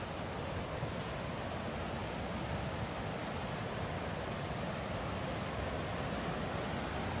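A river near Elkmont in the Great Smoky Mountains, Tennessee, rushes in a steady, unbroken broadband roar, close and constant with no voices.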